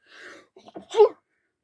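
A single short sneeze indoors at a rural homestead, preceded by a quick breath and small catching sounds, then quiet.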